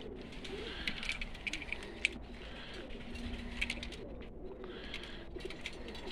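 Several pigeons coo and murmur in low repeated calls, with occasional chirps and light rattling nearby, at moderate volume.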